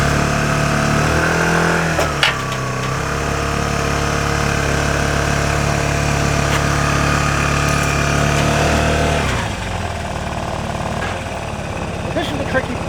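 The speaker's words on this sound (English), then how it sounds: "you have to give it some gas to get it over the chock" A motorcycle engine drones loudly and steadily, revving as the bike is pushed up a loading ramp over the wheel chock of a ramp-and-rack carrier, then the tone drops near the end.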